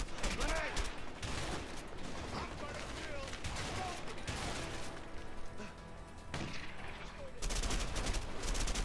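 Dense gunfire rattles through a shootout in the video game A Way Out, rapid bursts of automatic fire and single shots packed close together and loud throughout, with a player's voice talking over it.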